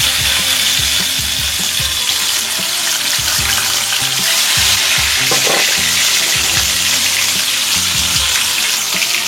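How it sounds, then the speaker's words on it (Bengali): Salted, turmeric-rubbed bhetki fish pieces fry in hot oil, a loud, dense, continuous crackling sizzle with bubbling texture heard up close. "আমি ভেটকি মাছগুলোকে আগে ভেজে নেবো উল্টে পাল্টে একটু লাল করে"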